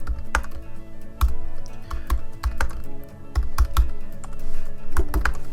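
A computer keyboard types text into an annotation box in Camtasia 2019, with close, loud, irregular key clicks in quick bursts and brief pauses, and no voice over it.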